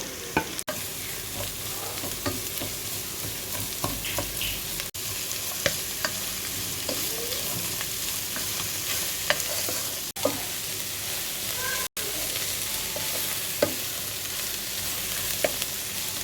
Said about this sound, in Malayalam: നന്നായിട്ട് സവാള വാടി വരട്ട്